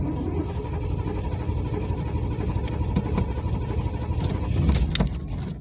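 A 1988 Pontiac Trans Am GTA is cranked on a cold start, with key jingling and a low churning starter that grows louder near the end.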